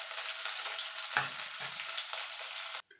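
Bitter gourd frying in a pan as the first step of a Bengali milk shukto, a steady soft close sizzle with a brief stirring clatter midway, then cut off abruptly; no talking.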